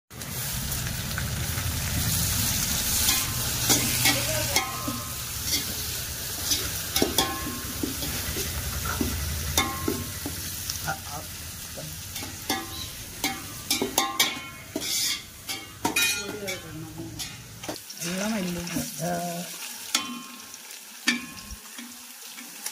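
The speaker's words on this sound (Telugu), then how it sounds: "అంటే చికెన్ ఫ్రై చేయాలి." Chicken fries and is stirred in a pan, with a steady, dense sizzle and scraping, stirring noises that run close and loud through most of the clip before thinning out near the end.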